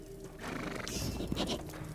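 A horse in a Victorian London street scene from the game Sherlock Holmes: The Devil's Daughter whinnies loudly near a burning cab, with hoof clip-clop and a dense background din.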